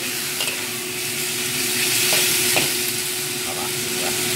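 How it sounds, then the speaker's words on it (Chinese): Garlic sizzles steadily in rendered chicken fat as it is stir-fried, a dense close frying hiss with faint scrapes of a utensil in the pan and no talking. "用翻啲雞油咧去炒一炒呢邊，把啲蒜頭啲味出翻嚟曬"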